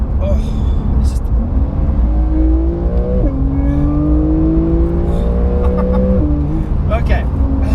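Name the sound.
Porsche 911 Carrera accelerating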